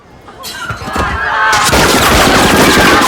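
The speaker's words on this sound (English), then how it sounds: "Frank had gone inside with his father to look at some guns, but they hear the gunshots." Gunfire in a mafia assassination movie scene erupts into sustained, loud bursts of rapid shots that build and fill the clip, dense like machine-gun fire with no pauses.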